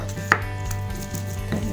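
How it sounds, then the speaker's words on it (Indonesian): Chilies for sambal matah being pounded in a mortar with a pestle, a few dull, uneven knocks and grinding scrapes over a low steady hum nearby. "Mama sambal matahnya nggak diiris, tapi mau diulek"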